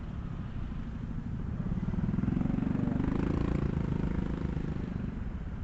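Idling engines in an everyday traffic jam, dominated by motorcycles, a continuous low rumbling drone that swells slightly in the middle and holds steady throughout with no talking.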